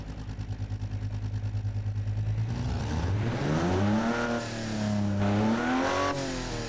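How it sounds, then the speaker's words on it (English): A naturally aspirated car engine in the BeamNG driving game idles with a steady pulsing throb, then revs up and down in smooth rising and falling sweeps, loud and close, with no voices. "I'm getting a blow-off valve sound despite their being naturally aspirated"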